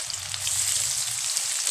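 Chopped onion frying in hot oil with whole cinnamon, cardamom and cloves for a mutton curry, a steady close sizzle with a soft crackle running evenly throughout, no voices.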